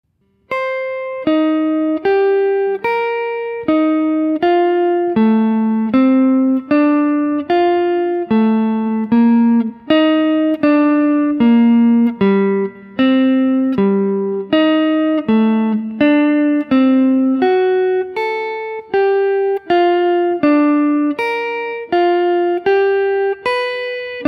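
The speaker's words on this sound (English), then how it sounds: "if I do that faster without talking, you're going to really start to hear again the progression coming out" A chord progression plays quickly from the SOLO music app as bright, synthetic notes. They are cleanly separated and follow each other in a steady, even rhythm, with no talking over them.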